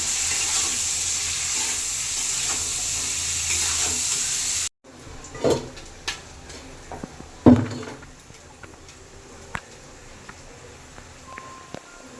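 Chopped carrots frying and being stirred in a pan in a home kitchen: a steady sizzle at first, then a quieter stretch broken by scraping, clattering stirs and utensil knocks against the pan.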